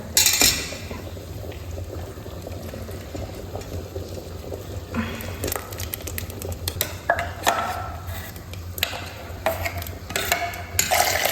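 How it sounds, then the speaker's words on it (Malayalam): Ground coconut goes into a simmering chana dal payasam and is stirred. Steady bubbling and liquid sloshing run throughout, with bursts of scraping and clattering against the pot in the second half. "ഇനി നമുക്ക് നേരത്തെ അരച്ച് വെച്ച തേങ്ങ ചേർത്ത് കൊടുക്കാം."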